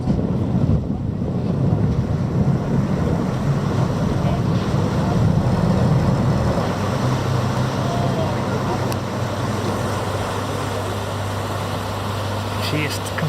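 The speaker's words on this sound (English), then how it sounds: "and the ferry's turning." Out on the water, a ferry turns with a low engine rumble under wind buffeting and wash, and a steady deeper drone takes over partway through. The sound is continuous and fairly close, with no speech.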